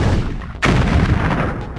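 A tank cannon fires in the Puppy Rescue Patrol cartoon game, a single loud booming blast that cuts in sharply and rumbles on through the rest of the moment.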